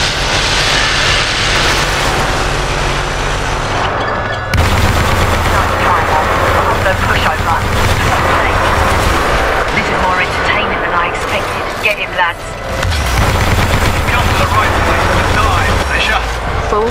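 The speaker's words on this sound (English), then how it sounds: "You can't outrun a laser core, little bugger." A Titan's laser core fires in Titanfall 2, a loud sustained roaring blast over heavy combat noise, cutting out briefly and then surging again.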